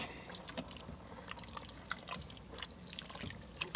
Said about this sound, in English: Let me stir this up.